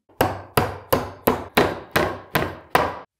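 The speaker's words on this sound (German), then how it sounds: "Die können wir einfach mal hier außen in das entsprechende Loch hineingeben, auf der anderen Seite natürlich auch und mit einem Hammer hineinklopfen." A hammer drives plastic dowels into the holes of an IKEA Kallax drawer, seven sharp, evenly spaced knocks ringing out close and clear with nothing else heard.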